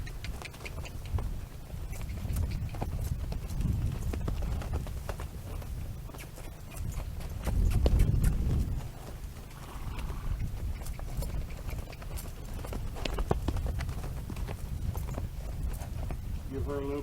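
Hooves clip-clop steadily as a nervous mare walks on a hard surface, a continuous rhythmic patter with brief snorting or shuffling midway.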